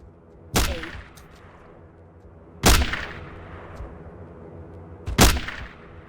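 Three loud, sharp hunting rifle shots spaced a couple of seconds apart in the Jurassic Park: Trespasser video game, each a hard crack with a decaying boom, over a quiet background.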